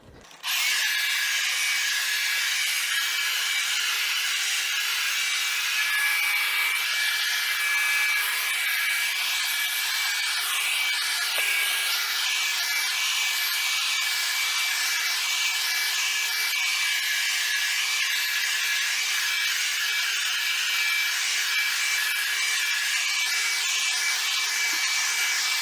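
A Hoover PowerDash Pet FH50700 carpet cleaner sucks moisture from carpet with a steady, loud, hissing whir that runs unbroken for about twenty-five seconds, close up and alone.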